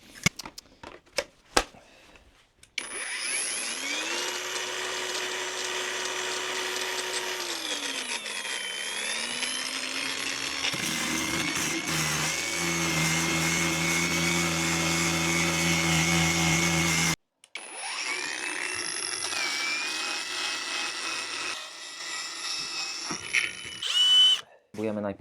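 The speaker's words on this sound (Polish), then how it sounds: "jeszcze szlifierką to przeczyścić" An angle grinder cleaning rust off metal on a bus camper conversion, a loud high whine that spins up, runs and stops, with a brief pause before a second pass, close.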